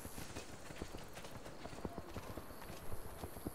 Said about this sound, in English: Even the horse is following me.